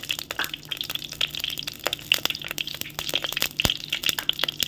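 Fenugreek seeds fry in sesame oil in a clay pot, giving a close, busy crackle of rapid sizzling pops and snaps that runs throughout without a break.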